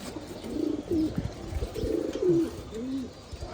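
Pet pigeons cooing close by, several soft, throaty coos rolling out in an irregular rhythm, with no voices.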